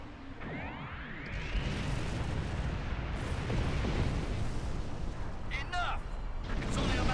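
Continuous heavy barrage from a Doomsday weapon firing indiscriminately in the Star Trek Online space game, a dense roaring wall of blasts and rumble with brief sweeping energy whines and chirps, voices speaking over it.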